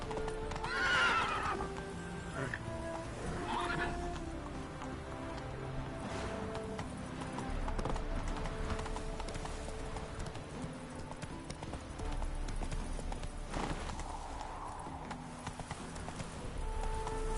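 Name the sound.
horse galloping and neighing, from video game The Witcher 3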